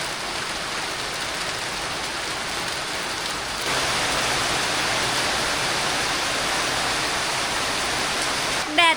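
Steady rain pours down in the evening, a dense continuous hiss that grows louder partway through and keeps going without a break, with a brief knock near the end.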